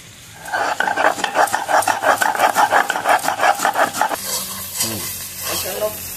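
Pointed gourd and shrimp being stir-fried with spices, heard as a fast rhythmic scraping of a spatula across the pan for about four seconds over a faint sizzle, then quieter rustling stirring, loud and close.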